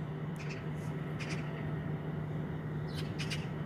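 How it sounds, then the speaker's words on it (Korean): Magpies call from the sky with a few scattered harsh chattering caws, faint and distant over a steady low outdoor hum. "지금 하늘에는 까치들이 날아가고 있습니다."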